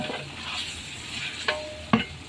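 Yogurt being stirred into chicken biryani masala in a pan, a soft wet sizzle under steady mixing, then two sharper spoon knocks against the pan near the end, close by and without speech.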